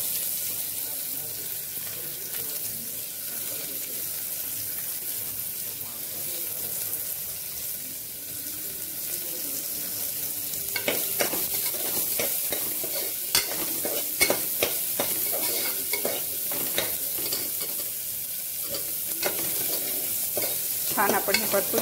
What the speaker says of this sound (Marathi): छान आपण हे परतून घेऊया तांबूस कलर येईपर्यंत